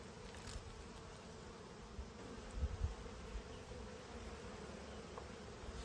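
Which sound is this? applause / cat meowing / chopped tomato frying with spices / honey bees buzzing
honey bees buzzing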